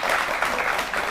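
Audience applause at a televised political debate, a steady dense wash of clapping filling the whole moment without a break.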